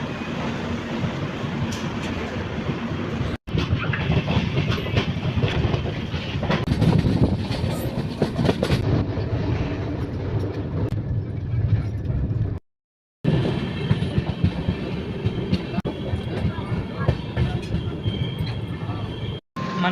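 The Bhavnagar-Kakinada Port SF Express rumbles steadily along the rails, a loud continuous clatter with rhythmic wheel noise heard from inside, interrupted by two short dropouts.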